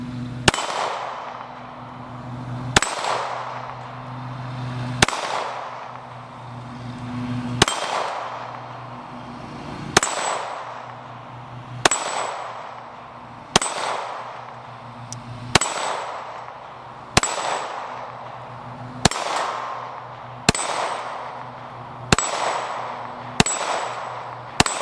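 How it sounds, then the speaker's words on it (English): Mossberg MC2C 9mm pistol fires Tula rounds at a steel target, each sharp shot followed by a ringing clang, about a dozen evenly spaced reports at an outdoor range. "see if I can hit something else with this smaller target with these little finer sights"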